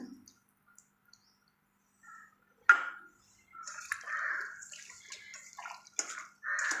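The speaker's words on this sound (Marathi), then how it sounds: "आमसूलचं पाणी, कोकमचं पाणी घालून घ्यायचं." After near silence and a sharp knock, kokum water pours and splashes in short gushes into a bowl of prawn marinade, close and moderately loud.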